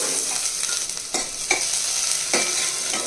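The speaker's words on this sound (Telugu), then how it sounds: "ఇప్పుడు ఆయిల్ వేడైన తర్వాత చిన్న ఉల్లిపాయ తీసుకుని చిన్న చిన్నగా కట్ చేసుకుని వేసుకోవాలి" Finely chopped onion frying in hot oil, a steady close sizzle with several sharp scraping stirs of a spoon cutting through the hiss.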